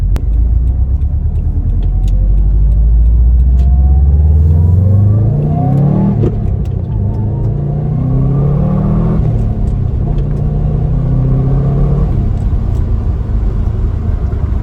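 A Subaru WRX STI pulls at full throttle in third gear, its engine droning loud and close and climbing steadily in pitch, then easing off and rising again.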